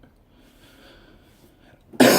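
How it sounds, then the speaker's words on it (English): A single sharp cough bursts out near the end after a stretch of quiet room tone, loud and close, with no talking during it. "Sorry, I've got a bit of a cough."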